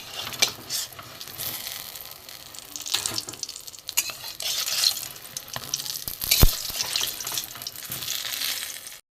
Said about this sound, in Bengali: বেগুনগুলো আমার ভাজা হয়ে গেছে লাল করে, দেখুন।